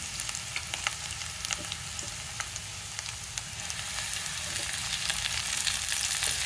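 Amaranth leaves fry with onions in a pan, giving a constant crackling sizzle with scattered small pops and stirring clicks that grows slightly louder toward the end, and no talking.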